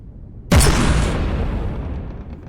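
Frigate broadside cannons fire in the From the Depths video game: one sudden, loud, deep boom that rolls into a long rumbling decay, with no voices.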